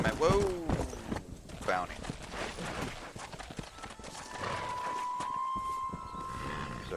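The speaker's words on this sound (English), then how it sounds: "There's a herd of horses over there." Hooves clip-clop and a horse snorts and whinnies in a Red Dead Redemption ranch scene, the animal sounds mixed with game ambience while someone talks over them.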